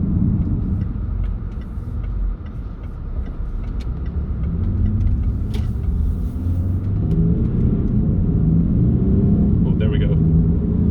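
A used Range Rover Sport's turbocharged engine pulls hard from inside the cabin, a loud continuous rumble building as it accelerates past 3,000 rpm, with a person talking over it.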